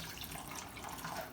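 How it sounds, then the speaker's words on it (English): Water pours steadily into cornmeal for arepa dough, a soft, continuous trickling and splashing that stays faint and even throughout, with no talking. "we'll start adding the rest of our water"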